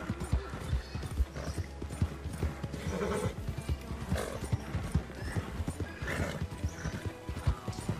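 Horse hooves clip-clop in steady rhythmic beats in the Red Dead Redemption 2 game, with the horse whinnying and snorting over the running gait, close and continuous for eight seconds.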